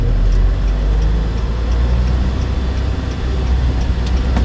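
Car engine and road noise inside a vehicle during a driving test, a continuous low hum and drone that swells gently as the accelerator is pressed, with no talking.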